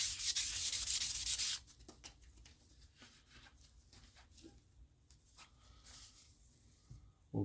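Fine 1000 grit sandpaper with lubricant rubs against a bicycle drivetrain part on an old Trek bike. A loud, dense scrub opens the clip, then gives way to softer, irregular short rubbing strokes close by.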